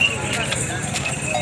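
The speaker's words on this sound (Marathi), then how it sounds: "बैलांची चाल देखील एकच नंबर आहे." A pair of bullocks walks at the Nampur bull market with quick, rhythmic hoof clops on hard ground, while voices and crowd murmur carry on in the background.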